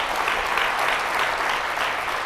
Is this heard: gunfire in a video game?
no